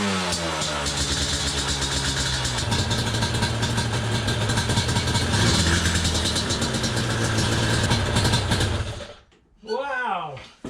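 Yamaha 350 Banshee ATV engine running after a $400 purchase, a loud, buzzy two-stroke roar holding steady for several seconds before cutting off, followed by a voice.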